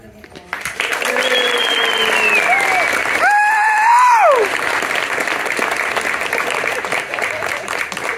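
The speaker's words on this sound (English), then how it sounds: "Can we give them a round of applause?" Audience applause at an elementary school fourth-grade band concert, a broad steady clapping swell that rises quickly and holds for several seconds, with a brief whistle-like tone and crowd noise mixed in.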